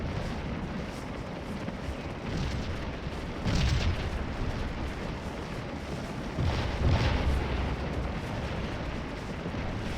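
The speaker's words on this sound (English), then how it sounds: "our gun that fell off looks like it has unlimbered and has decided to start firing again" An artillery gun fires in Scourge of War: Antietam, a Civil War battle game, with a couple of dull booms rising out of a constant rumbling battlefield din.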